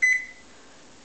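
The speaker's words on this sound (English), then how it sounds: "This goes into the microwave as well" A microwave oven gives one short, clear electronic beep up close, followed by a faint steady hum as it runs.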